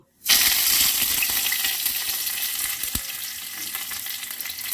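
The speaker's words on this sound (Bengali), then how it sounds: "বাকি তেলের মধ্যে তেজপাতা আদা জিরে কাঁচা লঙ্কা বাটা আমি দিয়ে দিলাম" Bay leaf, ginger, cumin and green chilli paste hitting hot oil, a sudden loud burst of sizzling that stays dense and steady, with a single clink partway through.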